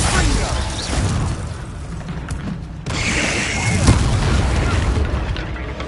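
A Confringo spell explodes during a Hogwarts Legacy duel with a heavy boom. Rumbling blasts and mechanical clatter continue through the fight, mixed with shouted voices.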